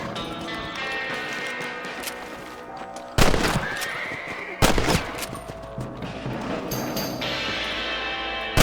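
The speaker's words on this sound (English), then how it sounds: "You're better at shooting rabbits than outlaws, I see. Let's kill those little varmints." Gunshots from a Western game, Red Dead Redemption, fired at rabbits: two loud separate cracks in the middle of the clip with a horse whinnying and hooves around them, plus ambient outdoor game sound and no talk.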